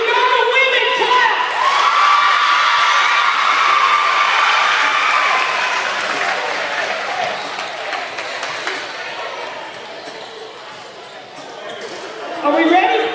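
A college basketball crowd at a Madness-style event claps and cheers to pick a side, a loud, dense burst of clapping, whoops and shouts that slowly fades, then swells again briefly at the end.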